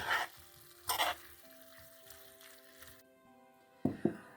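Chicken and garlic sizzling and crackling in a hot pan, with a few louder bursts of stirring and scraping over a steady fry.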